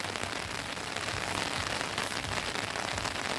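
Heavy rain pours down outdoors on a farm, a constant close hiss of drops hitting surfaces with no break or voices.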